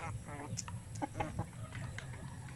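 Native chickens cluck in a farmyard, several short soft calls scattered through the stretch at moderate distance over a steady background hiss.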